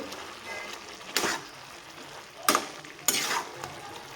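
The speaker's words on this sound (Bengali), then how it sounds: "এখন আমি দিয়ে দিব আমি আগের থেকে করে রাখা সর্ষে বাটা তো সুন্দর করে মিক্স করে নেব" Ground mustard paste being stirred into boiled drumstick vegetables in a pan: three or four distinct scraping strokes of a spoon over a quiet simmering background.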